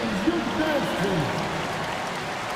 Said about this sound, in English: Please give a big round of applause for your Grizzlies youth dance team.